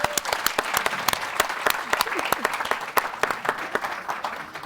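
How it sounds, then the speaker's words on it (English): An audience at a book launch applauds, a modest gathering producing distinct, fairly sparse claps that hold steady and then begin to thin out toward the end. "Give them a round of applause."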